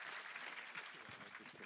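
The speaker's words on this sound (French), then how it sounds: "On les applaudit maintenant, Pierre et Thibaut." Audience applause at a live French debate event on whether the pen is mightier than the sword, a steady wash of clapping filling the short moment, with faint voices mixed in.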